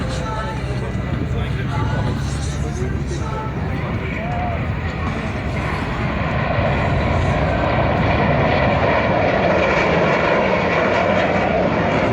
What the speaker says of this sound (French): Voici sur votre gauche les deux Mirage 2000 pour un passage train-sortie en patrouille serrée